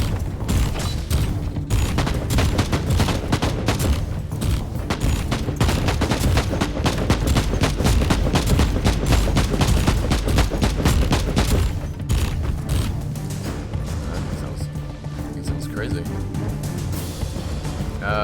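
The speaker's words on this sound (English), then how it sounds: "Inferno pistol I'm hearing." Inferno pistol fire in Warhammer 40,000: Inquisitor – Martyr, a long, loud stream of rapid shots and bursts with booming impacts, easing slightly toward the end, with someone talking over the combat.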